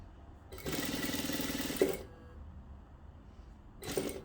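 A sewing machine runs in a steady, fast stitching burst of about a second and a half as it sews blouse fabric, then falls quiet before a short second burst starts at the end.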